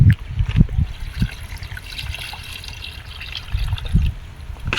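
Water pours into the basin of a solar light trap, about two litres, giving a soft trickling and splashing with a few louder gushes near the start and end, close by with no talking.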